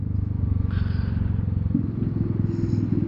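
A Vespa GTS 300 scooter fitted with a full Malossi exhaust accelerates to overtake, its engine giving a close, steady pulsing drone with a brief shift in pitch partway through, while a rider's voice is faintly heard.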